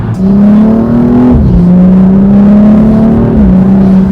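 BMW M235i xDrive engine revving hard under continuous load, its loud droning note climbing steadily then dropping sharply with two quick gear shifts, no voices.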